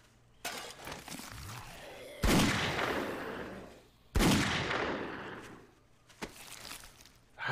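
Gunfire in the video game 7 Days to Die: a few loud, booming shots spaced seconds apart, each ringing out and fading in a long tail, with lighter clatter in between.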